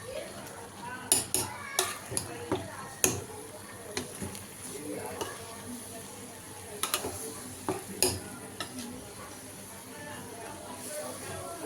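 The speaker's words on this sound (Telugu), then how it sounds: "ఇప్పుడు ఒకసారి కలుపుకోవాలి" Egg biryani with mint and gongura being stirred in a pot: repeated scraping and clanking strokes of a spoon against metal in irregular bursts over a low sizzle, close and fairly loud.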